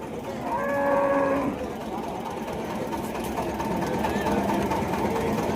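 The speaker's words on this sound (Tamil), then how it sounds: "இது சிந்து மாடு கேட்போம்." A Sindhu breed cow at the Gundadam cattle market gives a single droning moo early on, set against a steady hum of crowd chatter and background market noise.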